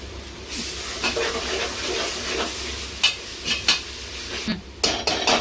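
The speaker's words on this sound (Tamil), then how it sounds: "இஞ்சி பூண்டு பேஸ்ட் ஆட் பண்ணி மறுபடியும் நம்ம கிண்ட போகிறோம்." Ginger garlic paste sautéing in a pan for chicken biryani, a steady close sizzle with clinking utensil strokes and scrapes that grow more frequent in the final seconds.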